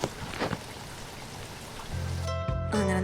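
Heavy rain falls steadily at a railway station, a continuous broadband hiss, before a train's tonal hum and horn-like notes rise over it near the end.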